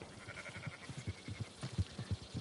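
Sheep bleat in the open-world western game Red Dead Redemption 2 as a scattered flock is rounded up, several quiet overlapping baas repeating in quick pulses over faint outdoor ambience.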